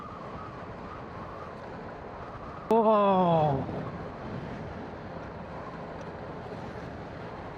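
Wind rushing past a rider on an NMAX v2 motorcycle on the Nasugbu–Ternate road, a steady broadband roar throughout, briefly interrupted by a loud exclaiming voice.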